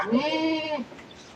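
A single drawn-out bleating call from a goat, close and fairly loud, wavering in pitch and fading out after about a second.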